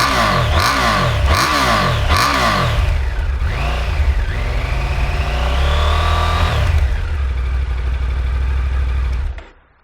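A 2021 Triumph Tiger 900 Rally Pro motorcycle engine is revved hard several times in quick rhythmic bursts, then held through one longer climbing rev before dropping back. The sound is loud and close, with no voices.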